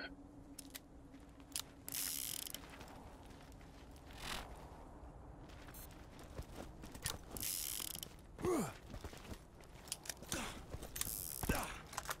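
Weapons reloading in Borderlands: a run of mechanical clicks, ratcheting and metallic clacks in separate bursts, fairly close and moderately loud, with no talking.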